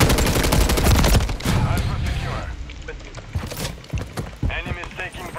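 Rapid automatic gunfire bursts from Call of Duty Modern Warfare 3 multiplayer, loud at first and then sparser, mixed with game voices and other in-game effects.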